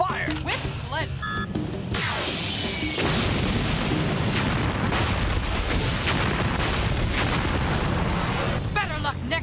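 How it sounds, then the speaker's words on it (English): Missiles fired at an electromagnet in a 1995 VR Troopers TV episode, a heavy booming explosion that rumbles on loudly for several seconds after a brief opening of other effects. "Locking missiles on the electromagnet. Locked on. Fire."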